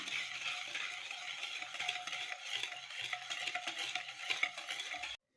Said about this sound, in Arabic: ونحركو مزيان الخليط نتاعنا